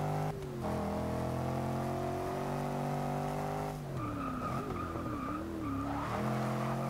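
A 2015 Range Rover Sport SVR in the racing game Forza 6 skids with a long tire squeal, its engine droning loudly and steadily beneath the screeching slide.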